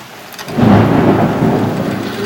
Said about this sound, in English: We have a thunderstorm going on in the background.